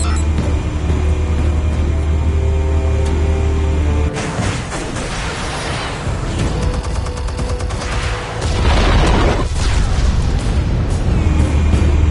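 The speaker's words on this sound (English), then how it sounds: "Explosives armed. Fire when ready." Explosives detonating in a Batman video game: a deep booming blast breaks through a steady rumble, followed by rolling, crackling aftershocks and a second surge of roar.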